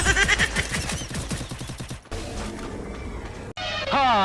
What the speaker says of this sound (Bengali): চলো গুলি চালাও।